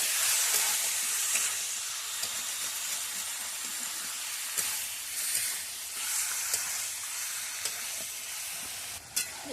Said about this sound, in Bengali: এবার ভালো করে কষিয়ে দেব